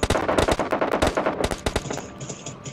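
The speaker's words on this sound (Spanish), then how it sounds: "me disparan, me disparan, me disparan desde 320" Rapid automatic gunfire in the battle royale shooter PUBG, loud and close, a dense burst of quick repeated shots that thins out toward the end, with no talk over it.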